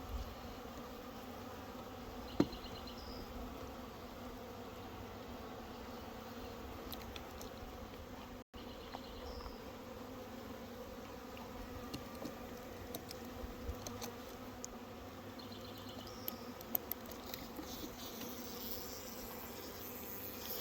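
Honeybees hum in a soft, continuous drone close by at the hive, with occasional faint clicks and small knocks but no talking.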